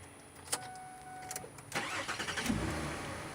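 A new car's engine cranks with a starter whir, catches, and settles into a steady, close idle with a slight rev, heard alone without talk.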